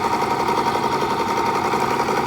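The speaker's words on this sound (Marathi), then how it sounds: "प्रेस करू आपण शिलाई" A household sewing machine stitching fabric, a fast, even mechanical whir and rattle running steadily and loud at close range, with no talking.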